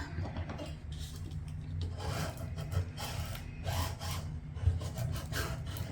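Adhesive vinyl on cardstock is burnished through low-tack transfer tape, producing close, continuous scratchy rubbing strokes that rise and fall in a steady back-and-forth rhythm.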